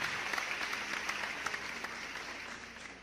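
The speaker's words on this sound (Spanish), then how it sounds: "¿Cuánto le pueden dar un aplauso al Señor?" A church congregation applauds for the Lord during a sermon, steady dense clapping with scattered sharper claps standing out, fairly close and continuous throughout.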